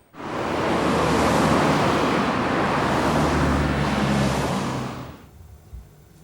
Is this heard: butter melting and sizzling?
no